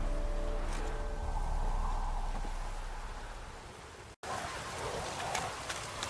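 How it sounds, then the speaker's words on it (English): Steady rain falls in The Witcher 3, a dense hiss of drops on surfaces that fills the scene continuously at moderate level, broken only by a momentary dropout. "Looks like rain."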